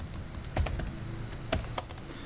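Typing on a computer keyboard: a quick run of close, light key clicks with a couple of louder taps, no talking.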